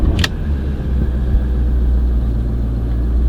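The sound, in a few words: Porsche Cayenne S 4.2 litre V8 diesel engine starting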